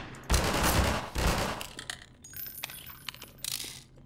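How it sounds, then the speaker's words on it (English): Automated turrets in Half-Life 2 fire two loud, rattling bursts, then the noise gives way to scattered metallic clinks and tinkling like spent casings or debris falling. "Goddamn turrets!"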